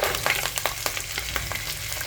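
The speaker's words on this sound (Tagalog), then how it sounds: "Lagyan na natin yung mga buto" Pork bones drop into a pan of sizzling onion, garlic and a little ginger, setting off a loud, continuous frying hiss with repeated scraping stirs close by.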